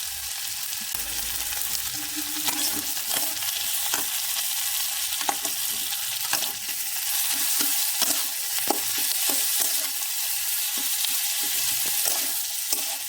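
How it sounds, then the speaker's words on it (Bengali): Ginger, cumin, garlic, onion, tomato, chilli powder and green chillies fry together in a pan, sizzling continuously while a spoon stirs and scrapes repeatedly in irregular knocks; close and fairly loud, with no speech. "সব কিছু দিয়ে ভালো করে বেশ একটু ভাজা ভাজা করে নেব।"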